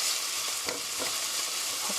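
Ground beef hits a pan of stir-fried green onions while mapo tofu is being made, giving a steady, fairly soft sizzle with faint stirring scrapes throughout.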